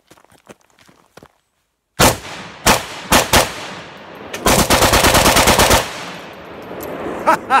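An AK-47 pistol with a 6.5-inch barrel fires 7.62x39 rounds outdoors: a few loud single shots, then a rapid burst of about ten, each sharp crack close and ringing, after faint footsteps and quiet handling.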